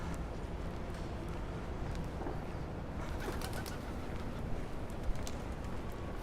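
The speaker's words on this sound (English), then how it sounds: "I like the sounds pigeons make when they fly." Pigeons coo on a busy Manhattan street, faint and partly buried under steady city traffic roar, with a brief flutter of wings near the middle and a small knock later.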